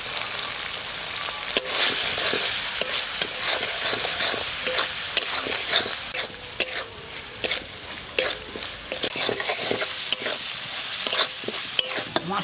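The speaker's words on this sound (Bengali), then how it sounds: "মশলা কষানো হয়ে গেছে, জল দিয়ে দেবো।" Spice masala with salt and turmeric fries for chital fish, giving a steady, close sizzle broken by frequent scraping stir strokes that run the whole time with no talk.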